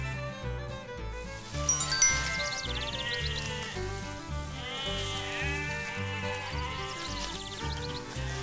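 Goats from the fairy tale The Three Billy Goats Gruff bleat over a steady, rhythmic musical backing, with light jingling tones layered in; the bleats waver and repeat at moderate loudness.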